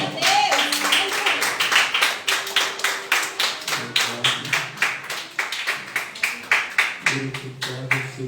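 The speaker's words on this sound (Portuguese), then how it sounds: "E as palmas louvam a Deus." Congregation clapping rhythmically in praise at a church service, a steady run of sharp, evenly spaced claps from many hands, with a voice speaking over them at times.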